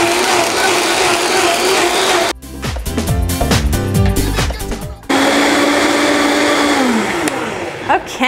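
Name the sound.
blender blending brown rice milk with a date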